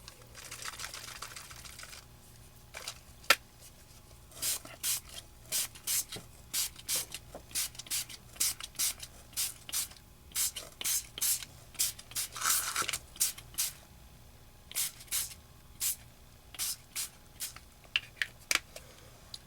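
Short bursts of turquoise blue Glimmer Mist spray on an art card, a quick irregular series of close, crisp hisses with brief pauses between them.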